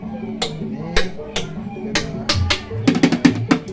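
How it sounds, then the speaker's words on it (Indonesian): Langgir Badong, a self-made traditional percussion instrument, struck in a series of sharp wooden knocks with brief resonant tones, sparse at first and then quickening into a rapid cluster near the end. "Pak Ade Swarsa memainkan alat musik Langgir Badong sebagai alat musik tradisi hasil ciptaannya."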